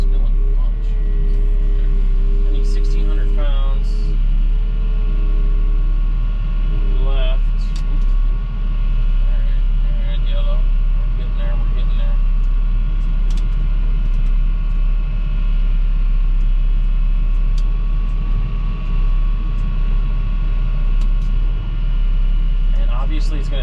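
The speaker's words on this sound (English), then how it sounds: "the feed wagon and the feed truck is mixing" A feed wagon and feed truck mixing cattle feed give off a steady, loud low engine rumble and mechanical drone that runs continuously, with someone talking over it and occasional clanks.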